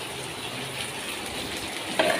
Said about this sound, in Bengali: এইদিকে পেঁয়াজ বসিয়েছি